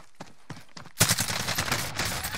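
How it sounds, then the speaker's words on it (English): Video-game gunfire starts as a few scattered single shots, then becomes a dense, loud, continuous volley of rapid firing. "I was shooting him first."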